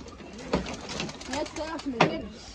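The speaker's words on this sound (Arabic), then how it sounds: "بصوا الحمام طار ازاي اهو يا جدعان" Pigeons coo and stir nearby, with soft flutters and brief clattering bursts mixed in while people talk over them.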